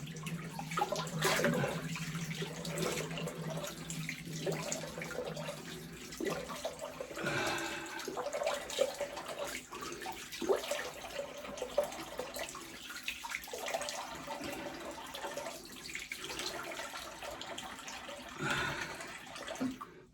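A tap runs steadily while a razor is rinsed under it, water splashing and gurgling into a basin with changing flow, close by and continuous for the whole stretch.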